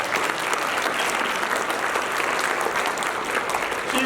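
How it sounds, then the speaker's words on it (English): Audience applause at a university Confucius Institute tenth anniversary event in Boston, a steady dense clapping from a large crowd filling the room at even volume throughout. "Another round of applause"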